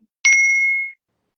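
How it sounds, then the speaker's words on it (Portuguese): A small bell kept on a desk for therapy sessions and classes is struck once, close and clear, leaving a bright ringing tone that fades out within about a second into silence. "Eu tenho esse sino na minha frente, tanto para terapia quanto para minhas aulas."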